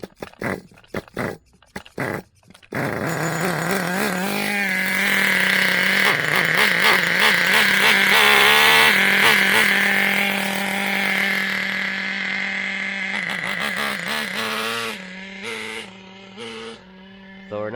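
A Traxxas T-Maxx 2.5 nitro RC engine fitted with a Losi 3.4 carburetor and running rich starts with a few short bursts, then screams at full throttle for a sustained, loud, wavering whine before dropping back to choppy revs.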